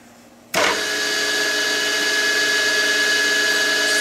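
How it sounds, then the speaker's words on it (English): A milling machine with a hand-ground bullnose cutter starts into 7075 aluminum held in a vise, with a sudden loud onset followed by a steady, high-pitched whining roar of cutting. "milling machine and we have our hand ground bullnose cutter in the spindle, and a piece of 7075 aluminum in the vise"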